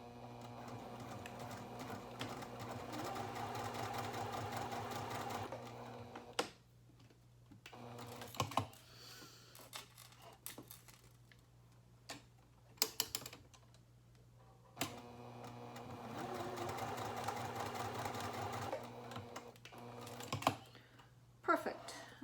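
A sewing machine stitches a lengthwise seam on a fabric coin purse and card holder at a small seam allowance: two steady runs of whirring stitching, separated by a quiet stretch of handling clicks and taps.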